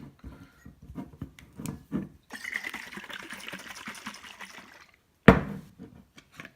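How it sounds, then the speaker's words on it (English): Home-canned beef broth is poured into a crock pot as a liquid splashing stream lasting a few seconds, followed by a sharp knock of the jar or lid and some light handling clatter. "pour that in the crock pot"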